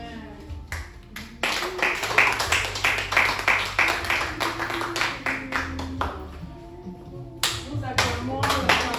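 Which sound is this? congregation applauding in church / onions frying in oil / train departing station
congregation applauding in church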